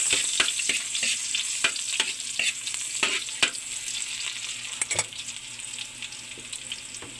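Garlic frying in hot oil in a pan for ginataang banisil, a loud bright sizzle right up close, dotted with frequent sharp clicks and pops of spattering and stirring, with no voices.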